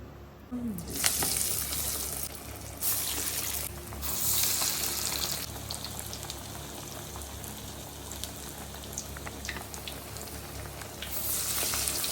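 Vadas dropped into hot oil for the Ugadi festival, a steady bubbling sizzle with bursts of louder crackling as batter hits the oil, close and fairly quiet.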